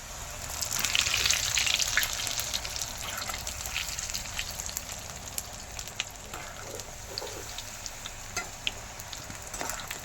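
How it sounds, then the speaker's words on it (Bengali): Cut strips of nimki dough, a Bengali snack, frying in plenty of hot oil, a close, busy bubbling sizzle that swells early and then settles into a steady crackle with scattered pops. "কাটা নিমকিগুলো এবারে ভেজে নেব"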